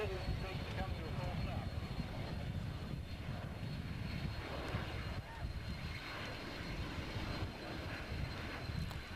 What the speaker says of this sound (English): the airplane will come down and come to a halt in a relatively short distance